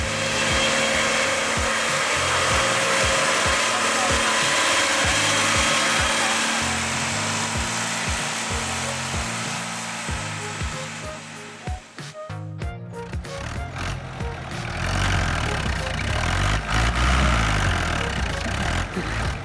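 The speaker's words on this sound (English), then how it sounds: "the engine keeps roaring." A John Deere 6850 tractor engine roars loud and close as it strains against a massive trailer loaded with agricultural goods in mud, a steady heavy drone that briefly dips midway before surging again.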